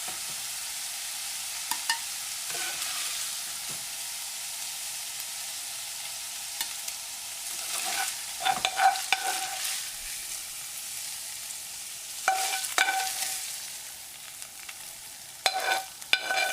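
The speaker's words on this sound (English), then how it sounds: "all we've done so far is brown the mince" Minced meat browns in a pan for spaghetti bolognese, producing a continuous close hiss and sizzle, with occasional spoon scrapes and stirring bursts throughout.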